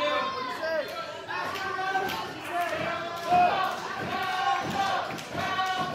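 At a live ACW wrestling show, a crowd chants and cheers for Falcone in a rhythmic, rising and falling roar, with thumps from the ring mixed in.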